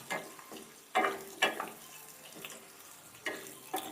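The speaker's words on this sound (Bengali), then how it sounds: "আলুগুলোকে এবার আমি ভেজে নিচ্ছি লাল লাল করে।" Potato pieces frying in hot oil in a wok for a chicken curry, with a close, soft sizzle broken by sharp spits and clatters of stirring at irregular intervals, no voices.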